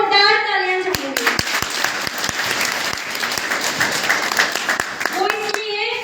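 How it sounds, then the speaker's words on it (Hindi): Loud, sustained applause from a seminar audience at a Modicare event, many hands clapping in a dense wash that follows a speaker's voice and fades as talk resumes near the end. "सबसे पहले तो मैं आप सब लोगों के लिए जोरदार तालियां चाहूंगी"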